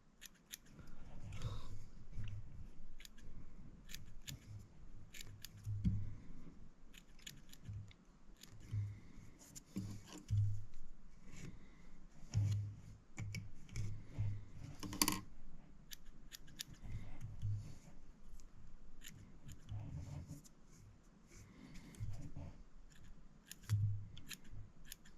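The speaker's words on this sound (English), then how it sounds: "Just kind of trim it back, thin it out a little." Scissors snip repeatedly at streamer fly-tying material, quiet, close, irregular clips spread across the whole span with no talk.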